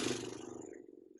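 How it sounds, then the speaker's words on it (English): A lip trill breathing exercise, one short buzzing flutter of the lips that starts fairly strong, fades over about a second and stops, heard close and alone. "Horse lips."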